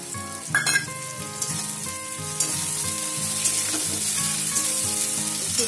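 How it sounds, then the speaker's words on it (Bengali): Potato, onion and tomato fry in a pan with a steady close sizzle and occasional stirring scrapes, while a sustained tonal background hum runs underneath throughout. "আলুটা পেঁয়াজটাকে ভেজে নেবো এবার দিয়ে দেবো টমেটো কুচি"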